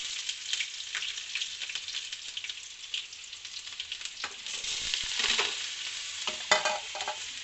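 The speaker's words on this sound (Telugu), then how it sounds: "అన్నీ వేసుకొని ఇలా వేయించుకోవాలి." Onions and peanuts fry in hot oil in a pan with a steady crackling sizzle, broken by scraping stirs, heard close and alone.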